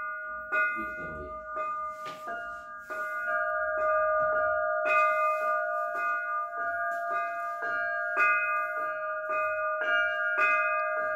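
Small Russian chime bells (zazvonnye kolokola) rung by hand, their clappers struck in a steady rhythm about once a second, each strike sustaining bright overlapping tones that keep ringing between hits.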